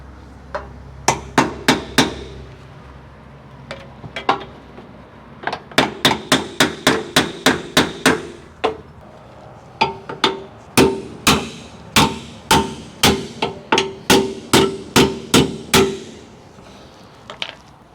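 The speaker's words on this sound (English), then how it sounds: "So you're gonna take a hammer or something to knock that loose." Repeated sharp metallic hammer blows knocking a bolt loose on a trailer leaf spring, loud and close, struck in quick bursts with short pauses between runs.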